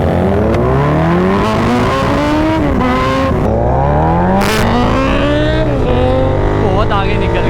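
Continental GT 650 and 2024 Kawasaki Z900 motorcycles accelerating hard in a drag race, loud engines climbing through rising gear pulls with brief shift dips, close and continuous, with a voice briefly heard.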